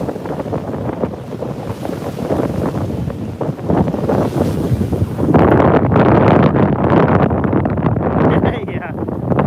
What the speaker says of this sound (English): which sucks that the wind is so bad